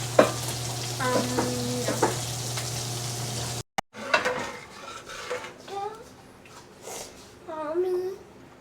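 Meatballs frying in a pan give a low, steady sizzle under clinks of cookware and stirring, while an adult and someone talk close by.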